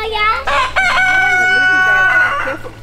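A rooster crows loudly and close by, a long drawn-out call with clucking and other fowl sounds mixed in.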